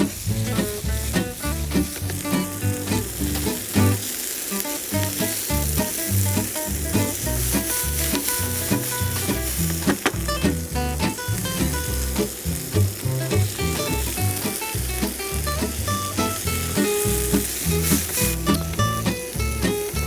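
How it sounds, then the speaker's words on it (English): Chopped tomatoes and onions sizzle loudly in a pan for tomato sauce, with a continuous dense crackle and scraping stirs throughout, close and without talk. "I'm going to add them to my sauce. Give this a little mix."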